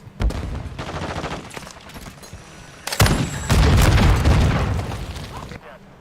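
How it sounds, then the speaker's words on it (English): Grenade blast and rapid gunfire in a Call of Duty: Modern Warfare II multiplayer match, with bursts of shots early and a heavy boom near the middle followed by sustained loud firing and rumble, game voice callouts mixed in. "Grenade out!"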